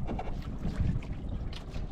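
Gusty wind buffeting the microphone with low rumbling, plus faint splashing of water near a boat while fishing; no voices.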